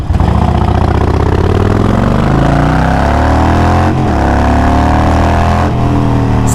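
A modified Harley-Davidson motorcycle engine runs loud and close, a thick, throbbing low rumble with rising and falling revs and two brief dips in the steady roar, no voices over it.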